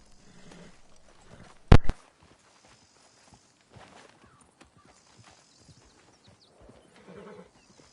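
Hooves clip-clop and a horse whinnies in the Red Dead Redemption 2 video game, the neigh bursting loudly for a moment amid quieter hoofbeats and sparse ambient game sounds.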